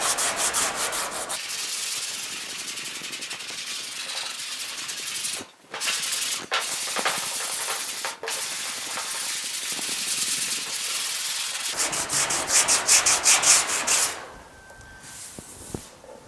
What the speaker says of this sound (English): So I'm going to go ahead and keep sanding.